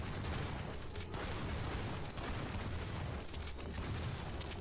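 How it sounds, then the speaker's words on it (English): Gunfire in the video game Resident Evil: Outbreak, rapid overlapping shots and booms forming a continuous dense barrage with constant low rumble, heard faintly throughout. "The gunfire is loud!"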